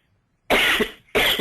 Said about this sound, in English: I'm coughing up a storm here.